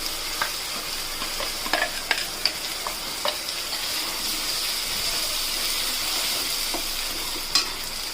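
A ground tomato-coriander chutney paste sizzles steadily in a hot pan, with scattered scraping clicks of a spoon stirring it; no voices.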